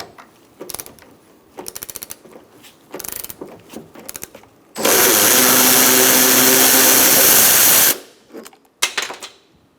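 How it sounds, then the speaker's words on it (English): A ratchet backs out the top strut bolt on a 2004-2009 Mazda 3 in several quick clicking bursts, then a loud sustained power-tool whir lasts about three seconds before more close ratcheting clicks, with no talking. "So I'm going to hold on to my strut and take out this bolt up top."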